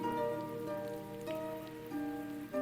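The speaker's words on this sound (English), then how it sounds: "chilled into a light rain, which, as you listen outside, has also started coming down" Light rain falls as ambient backdrop for a tabletop role-playing session, a soft, faint patter under sustained tonal music notes.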